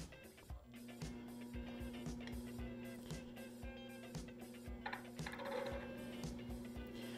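A metal spinning lathe turns a disc while a spoon tool presses the metal against the chuck, giving a steady mechanical whir with a constant hum and regular rhythmic clicks and scrapes.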